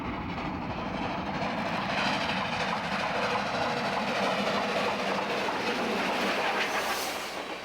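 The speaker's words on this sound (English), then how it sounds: "those steam trains, belching smoke and rumbling and swaying" Steam train on the Grand Canyon Railway rolls past nearby, a loud continuous rumble of wheels and cars with rhythmic clacking and metallic ringing, fading slightly at the end.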